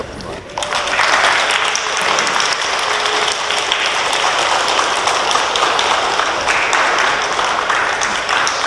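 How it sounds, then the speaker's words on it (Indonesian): A large gathering at a 25th wedding anniversary celebration breaks into loud, dense, sustained applause that begins abruptly and holds steady for several seconds, with a faint voice underneath. "bagi tepukan untuk semua."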